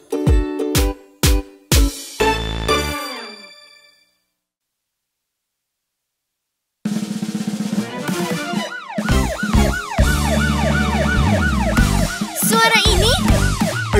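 A cartoon fire truck siren in an animated children's song, heard after a few plucked musical notes and a stretch of silence: a loud, repeating up-and-down electronic wail over music.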